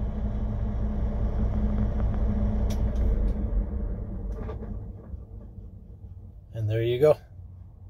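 A truck engine idles with a steady low rumble until an ignition idle timer shuts it off, the sound fading out midway. A person speaks briefly near the end, followed by a short clunk.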